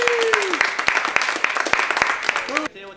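A film student crew claps in a room, a run of sharp, evenly spaced individual claps rather than a full round, with voices talking over them and the clapping stopping near the end.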